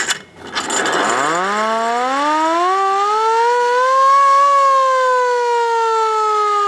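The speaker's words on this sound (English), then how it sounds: "The 102-year-old fire truck has a hand crank starter and hand-operated" The hand-cranked siren of a 1922 fire truck winds up from a low growl to a loud, steady wail that holds and rises slightly, sounding close and alone.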